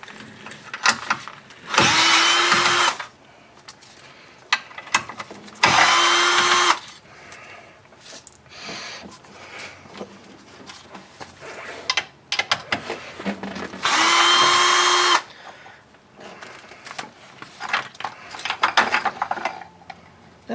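A power tool spins off three 8mm nuts holding a module on a Mercedes, heard as three loud whirring bursts of a couple of seconds each, separated by quieter clinks and handling.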